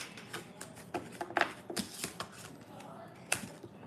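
Tarot cards are shuffled with quick papery riffles and snaps in short irregular bursts, close up and fairly quiet.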